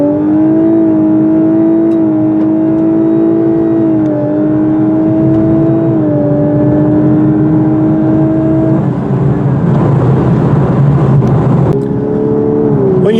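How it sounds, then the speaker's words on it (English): A 2018 Lexus LC500h hybrid in Sport Plus mode pulls hard from standstill to 60 mph, its engine note rising steadily in pitch through shifts, loud and close throughout with a busier, rougher roar toward the end. "For a 0 to 60 run, don't bother with the paddle shifters, just put it in Sport Plus mode and floor it."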